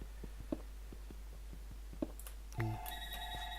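Telephone in a hardcore video game playthrough rings with a sudden electronic tone burst near the end, after a few faint ticks and clicks over low hum.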